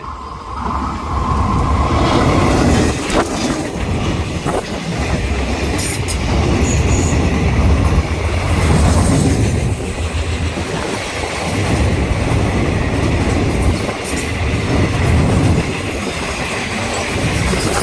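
A freight train hauled by a GEA locomotive, running Nong Khai to Laem Chabang in Thailand, rumbles past close by, loud and continuous, with rattling wagons and occasional wheel squeal over a heavy low roar.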